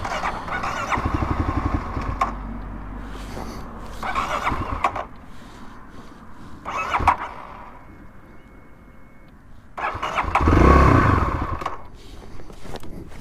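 A Kawasaki KLX351 motorcycle on its stock exhaust revs in several separate bursts, rising and falling between quieter idle stretches. The engine sounds fairly subdued and nearby, and the final rev is the loudest.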